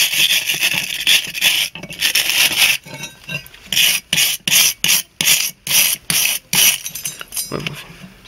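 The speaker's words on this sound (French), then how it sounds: "Du coup, on prend une brosse métallique." A wire brush scrubs rust off a metal part, first in a continuous harsh scraping, then in quick, rhythmic back-and-forth strokes, loud and close.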